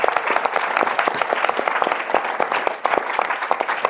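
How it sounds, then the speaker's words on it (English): Applause from a book festival audience, a steady patter of many hands clapping at moderate distance, sustained throughout with no speech over it. "I beg you an applause,"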